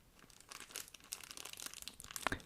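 Quiet crinkling and tearing of a trading card booster pack's foil wrapper, with bursts of rustling and a sharper rip near the end, close up and faint.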